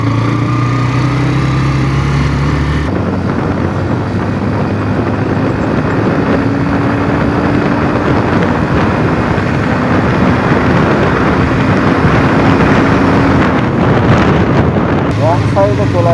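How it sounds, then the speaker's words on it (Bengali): A motorbike engine drones steadily throughout a ride while loud wind buffeting roars over the microphone, with faint muffled voices now and then. "চলো এখন আমরা একটা রাইড দিই আমাদের বাইক নিয়ে।"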